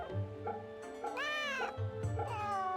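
A cat in Fate/Samurai Remnant gives a few close, clear meows, rising and falling in pitch, with a low purring rumble in between.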